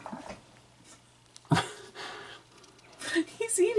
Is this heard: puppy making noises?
yes